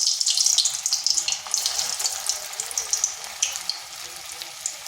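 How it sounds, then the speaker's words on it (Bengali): Dumplings (moitha) dropped into hot oil in a wok sizzle and hiss steadily, a bright crackling frying noise that stays fairly loud and continuous throughout, with no talking. "কড়াইতে তেল দিয়েছি, গরম হয়ে গেছে। এরপর ছেড়ে দিচ্ছি।"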